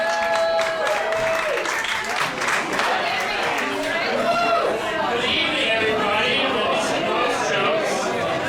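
Audience at a Denver roast battle comedy show applauding the two comedians, steady dense clapping mixed with crowd chatter and cheering throughout, with voices audible within the noise.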